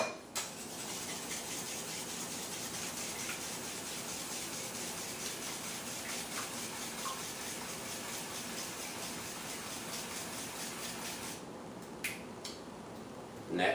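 Bread pudding mixture with cream, for a blackberry and banana bread pudding, is stirred steadily, making a continuous soft rubbing swish with faint clinks near the end.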